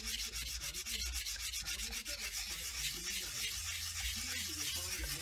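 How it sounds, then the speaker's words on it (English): Repetitive back-and-forth rubbing of 600-grit sandpaper on soapstone, close and quiet, with a steady scratchy rhythm of strokes and a low hum beneath. "skim over it a little bit with sandpaper"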